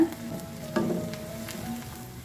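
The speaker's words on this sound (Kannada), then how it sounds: "ಶುಂಠಿನ ಸಣ್ಣದಾಗಿ ಕಟ್ ಮಾಡಿ ಸೇರಿಸ್ಕೊಳ್ತಾ ಇದ್ದೀನಿ ಇದನ್ನು ಕೂಡ ಸ್ವಲ್ಪ ಹಸಿ ವಾಸನೆ ಹೋಗೋ ತನಕ ಫ್ರೈ ಮಾಡ್ಕೊಂಡು ಬರೋಣ" Finely chopped ginger frying with onion in a pan, a steady low sizzle running throughout with a brief louder burst of crackle near the start, close and alone without voices.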